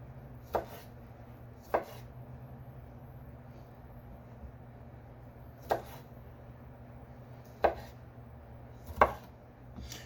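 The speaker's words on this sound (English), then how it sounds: "These cherry tomatoes have that wonderful sweetness to them that other tomatoes just can't replicate. Cut them in half." A knife cuts cherry tomatoes in half on a board with five sharp, separate chops spread over the stretch, each crisp and close, over a faint steady background hum, with no voices.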